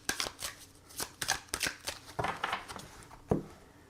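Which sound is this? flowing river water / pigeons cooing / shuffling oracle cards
shuffling oracle cards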